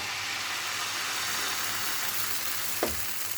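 Baghrir batter cooking on a lightly greased small electric crêpe pan, a dense, even hiss running throughout with one short clink near the end.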